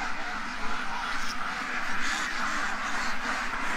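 A flock of ducks quacks in a busy overlapping chorus during a morning duck rush, steady and fairly close, with faint voices in the background.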